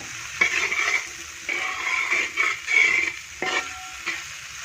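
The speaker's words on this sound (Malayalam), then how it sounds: "മസാലയൊക്കെ നന്നായിട്ട് മൂത്തിട്ടുണ്ട് കേട്ടോ" Masala for soya balls fries in a pan while a spoon scrapes and stirs it in several uneven strokes over a soft background sizzle, close by and without speech.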